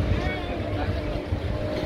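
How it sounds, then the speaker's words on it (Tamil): A speedboat runs on a lake at a boating spot in Lumbini Park, Hyderabad, a continuous close motor drone with wind buffeting the microphone and voices nearby. "இது ஸ்பீட் போட் இது சூப்பரான ஸ்பீட் போட்டு"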